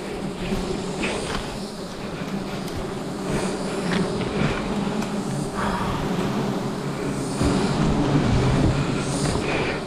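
A swarm of wild forest bees buzzes loudly and steadily near their nest in the wild, a dense, continuous droning hum that swells slightly toward the end, close and without speech.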